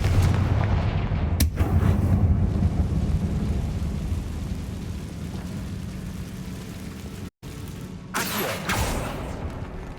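A Confringo spell explodes in Hogwarts Legacy, a deep booming blast with rumbling aftermath, followed by a brief cut and a further burst of crackling impact near the end.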